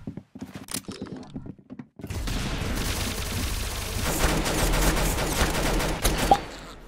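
Gunfire rings out in the Roblox game Arsenal, with a few sharp shots up front and then a sustained burst of rapid automatic fire that stays loud and dense, ending in a final heavy blast.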